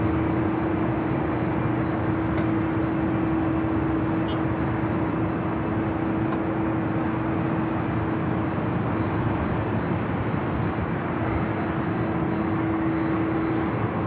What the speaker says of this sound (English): That was the Moss Air Cargo converted A330 exiting at Alpha 7, coming from Mexico City